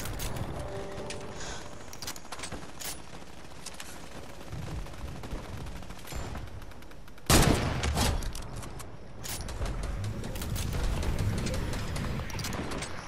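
Gunfire in a Fortnite team rumble match, with scattered rapid shots and crackling bursts over busy game noise, and one sharp, loud blast about midway.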